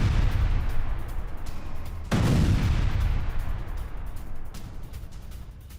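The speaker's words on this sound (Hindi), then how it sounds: "एक घर में जोरदार धमाका हुआ है" A loud explosion in a house booms with a sudden low blast, then rumbles and slowly fades over a noisy background.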